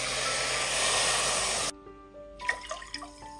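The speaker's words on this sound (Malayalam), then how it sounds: "ഇനി ഇതിലേക്ക് 3 കപ്പ് വെള്ളം ഒഴിച്ചു കൊടുക്കാം." Three cups of water poured from a 250 ml cup onto sugar in a pot: a loud, steady rushing stream that stops abruptly, followed by a few light clinks and drips, close up and with no talk.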